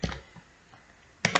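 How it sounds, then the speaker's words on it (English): Computer keyboard keys tapped during a Python matplotlib coding session: a short burst of clicks at the start, a couple of isolated taps, then another quick burst near the end, close and crisp. "So we type"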